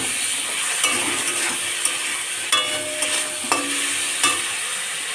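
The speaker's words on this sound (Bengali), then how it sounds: "পরিমাণ মতো লবণ দিয়ে দিচ্ছি, দিয়ে একটু নেড়ে নিই।" Salted potatoes are stirred as they fry in oil for a rohu fish curry: a steady, bright sizzle runs throughout, broken by several scattered scraping clinks of the utensil against the pan, with no voices.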